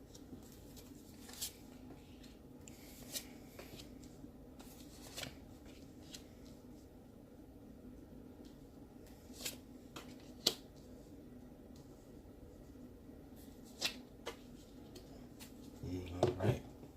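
Tarot cards are handled and shuffled in short, soft snapping bursts spread through a quiet room, with a louder flurry near the end.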